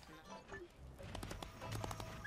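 Rhythmic horse hoof clip-clops from a ridden horse in Disney Infinity: The Lone Ranger, moderately close amid game sounds, with a brief whinny-like cue and no talk over it.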